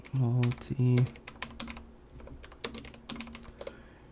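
Someone types on a computer keyboard, a scatter of quick, irregular clicking keystrokes up close. It starts under a couple of short loud tones and then carries on alone.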